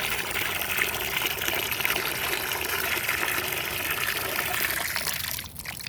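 Water pours steadily and noisily into a bird bath at the duck ponds of the Lake Merritt Wildlife Refuge, a continuous close gushing splash that eases slightly near the end.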